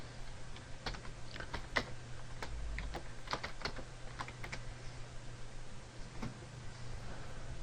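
A command typed on a computer keyboard, a quiet, close series of irregular key clicks and taps with brief pauses, over a low steady hum.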